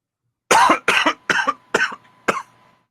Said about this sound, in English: I didn't mean to go there and cough on the mic there